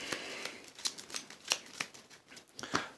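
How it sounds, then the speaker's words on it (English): Playing cards from a small wallet-sized tabletop game are shuffled in a pile, a series of quick, crisp riffling bursts in uneven rhythm, close and fairly loud with no voice over them. "Give their pile a little shuffle."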